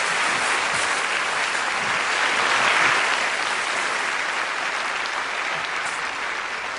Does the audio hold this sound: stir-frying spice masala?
no